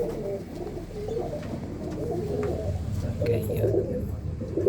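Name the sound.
pigeons cooing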